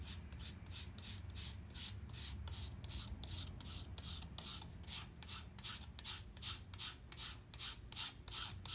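Steady back-and-forth sandpaper strokes on a balsa model airplane fuselage, a rhythmic rasping scrape repeating about twice a second, close and continuous with no talking.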